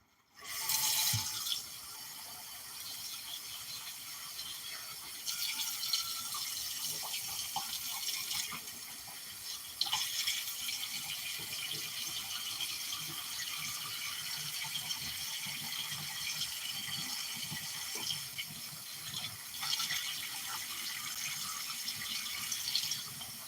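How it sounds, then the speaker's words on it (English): Rice being washed under a running kitchen tap, a continuous splashing flow into the pot that surges and eases in waves for over twenty seconds, with no voices. "wash my rice until the water comes out clear."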